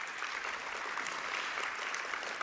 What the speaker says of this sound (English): I reckon the kids should give their teachers a round of applause